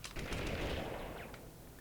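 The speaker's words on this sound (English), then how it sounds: "a single burst of gunfire in this game can kill you" Rapid bursts of gunfire from the Army Men 3D video game, a dense rattling volley lasting under two seconds, loud and close with no talk over it.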